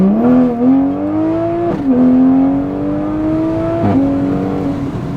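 A car running an ethanol blend tune accelerates hard, its engine note climbing steadily through the gears with brief dips at each shift, loud and close from inside the cabin.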